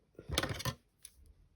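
Paper film strips being cut, a burst of crisp snipping and crackling lasting about half a second, followed by a faint softer snip, close and alone.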